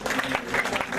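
A church congregation claps in praise of the Lord, a brief, dense burst of applause from a crowd filling the room.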